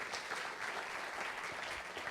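Audience applauding at a 2018 international land policy forum, steady clapping from many hands sustained throughout with no voices over it.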